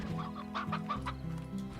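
Chickens in the video game Slime Rancher cluck in a quick run of close, clear calls over a steady low background hum, with no talking.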